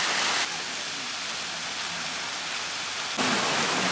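A Peterhof fountain, rebuilt after wartime destruction, gives off a dense, steady rush of spraying and falling water close by, with a slight shift in loudness near the start and end.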